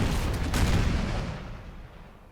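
A single heavy boom of cannon or musket volley fire in the Napoleon: Total War strategy game, loud at first then rolling and fading out over two seconds.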